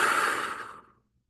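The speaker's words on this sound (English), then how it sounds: "Let's breathe out this terror with four big breaths." One big breath pushed out in a long, airy exhale that fades away after about a second, close and fairly loud, with no talking.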